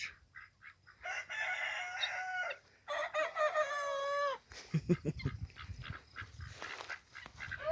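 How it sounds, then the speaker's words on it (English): A rooster crows loudly and close by, a long stretched call, followed by clucking and scratchy bird noises. "This little rooster here is kind of goofy looking on the top."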